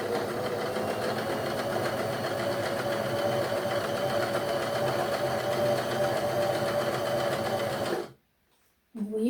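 A domestic sewing machine stitches a small hem in patchwork fabric with a steady, even whirring hum for about eight seconds, then stops abruptly and falls nearly silent.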